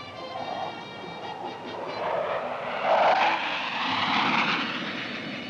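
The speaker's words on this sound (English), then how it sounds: "watching the airplanes dip to the waves like seagulls hunting for" A steady airplane engine drone, rising and falling gently as aircraft pass, with no voices.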